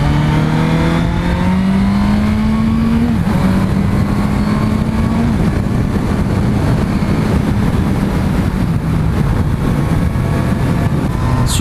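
A Honda CB650F motorcycle accelerates hard, its loud, close engine note climbing steadily in pitch through the revs and then shifting up, with a continuous roar and wind noise.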